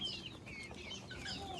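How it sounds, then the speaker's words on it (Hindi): Chickens cluck and chirp softly while being fed grain outdoors, a scattered, faint chorus of short calls with light background noise. "डालो मुर्गियों को"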